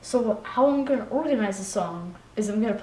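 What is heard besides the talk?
No distinct noise like a dog, phone or traffic.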